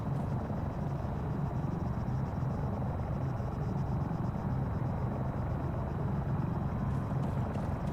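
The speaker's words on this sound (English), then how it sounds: "Let's see if we can't get us another helicopter." A helicopter in the military game Arma 3 whirs and drones continuously, its rotor and engine forming a steady low thrum at moderate loudness throughout, with no voices.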